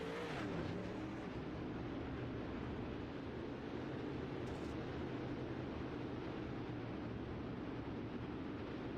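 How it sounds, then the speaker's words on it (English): Dirt track race cars roar together on a Kokomo oval as the green flag drops for the final heat race, a dense, steady, loud engine drone that holds throughout with no talk. "McGeethy gonna grab him some throttle, and away we go in the final heat race of the night"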